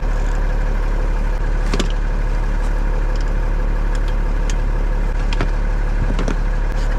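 Diesel engine of a large 6x6 military wrecker idling steadily to warm its hydraulic oil, a loud continuous rumble with a few faint clicks and clanks nearby, no talk.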